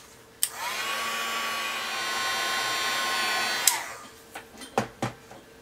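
A heat tool blows steadily for about three seconds while melting embossing powder for faux metal dry embossing. It starts and stops with sharp clicks and is followed by a few quick knocks and taps.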